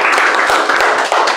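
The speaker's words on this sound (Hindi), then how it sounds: "तो एक बार जोरदार तालियां हो जाए सर के लिए।" Students in a class for an inverter AC PCB repair course give the teacher a short round of clapping. The dense, close patter of many hands fills the whole moment, with a few sharper claps standing out.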